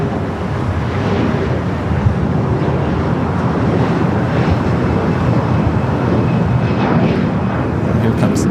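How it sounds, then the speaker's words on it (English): A CRJ regional jet takes off from the south side at LAX, its engines making a steady broadband roar that holds loud for the whole stretch, with wind buffeting the microphone throughout. "The CRJ taking off here in the south."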